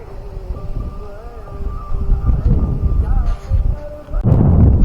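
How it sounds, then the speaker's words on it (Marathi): Strong storm wind gusts through the hills around a village near Mangaon in Raigad, rumbling and buffeting the microphone while someone talks over it, with a louder blast at the end. "हे बघा पूर्ण वादळ सुटलंय"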